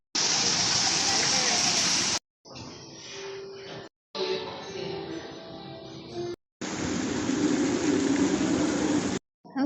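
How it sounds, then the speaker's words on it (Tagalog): Steady rain falls at an outdoor hotel pool as a loud, dense, continuous hiss and patter, broken by a few abrupt gaps in the recording. "it's raining."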